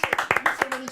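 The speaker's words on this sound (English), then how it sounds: "it's time to give a round of applause for StreamBritish" A round of applause for a guest during a livestream talk show, with a few quick claps cutting through alongside speech in under a second.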